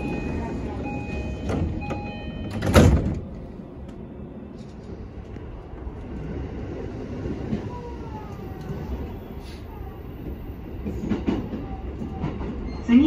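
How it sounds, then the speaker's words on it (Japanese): A Keiyo Line commuter rapid train leaving a station, with a low rolling rumble of the railcars, a brief loud clunk early on and faint clicks of the wheels over the rails, under a quiet cabin. "2番線から通勤快速ニーチ行きが発車します。"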